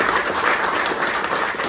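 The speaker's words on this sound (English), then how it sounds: "So let's give them a round of applause," Brief applause at a ribbon-cutting ceremony honoring capital project donors, a steady wash of many hands clapping from a gathered crowd, moderately loud and unbroken.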